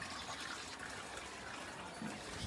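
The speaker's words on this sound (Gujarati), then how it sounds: "અહીંયા પાણી ભરવાનું કામ ચાલુ છે." Water pours steadily into a trough at a cow shelter on a hot day, a soft continuous gushing splash that is fairly faint and unbroken, with no voices.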